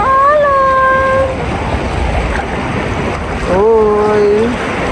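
Strong river waves rush loudly and steadily around people river tubing, with high voices shouting excitedly over the water near the start and again near the end.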